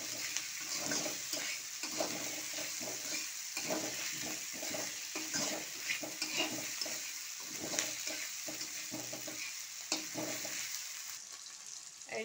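Garlic, ginger and chili masala fries in a pan, giving a constant close sizzle broken by a regular rhythm of spatula scrapes and stirs, with no voices.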